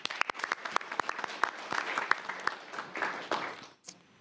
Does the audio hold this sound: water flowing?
no